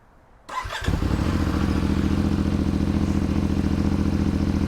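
A CFMoto 450 MT motorcycle engine with its stock exhaust cranks and catches, then settles into a steady, throbbing idle nearby.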